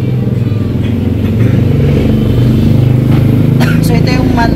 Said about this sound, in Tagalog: Hindi napahigpit yung kanyang tensioner, sir, kaya maingay motor mo.